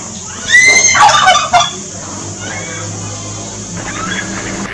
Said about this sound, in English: What does the turkey say?